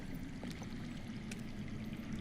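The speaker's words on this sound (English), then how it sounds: "I hear water. From underground." Underground water flows in the Telltale video game Game of Thrones as a faint, steady rushing trickle with a low rumble beneath, heard alone.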